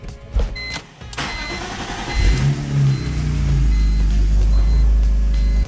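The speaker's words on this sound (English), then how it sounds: "It'd be a lot easier if I just turned the car on." A BMW E46 engine cranks and catches, then settles into a steady, rumbling idle, with a few clicks and a short whir before it starts.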